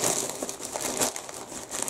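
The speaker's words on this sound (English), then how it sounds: "Sorry about the crinkle" Crinkly plastic packaging around a mailed yarn parcel being handled and opened, a continuous close crackling and rustling that fills the whole moment with no voice over it.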